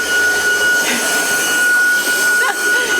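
A household vacuum cleaner runs steadily and close by for the whole stretch, a continuous whooshing roar with a high whine, during home cleaning while furniture is being finished.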